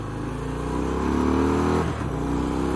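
A 2018 Harley-Davidson Fat Bob motorcycle engine hums steadily, then revs up with a rising whine before dropping back, loud and close.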